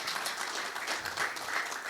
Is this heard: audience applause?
yes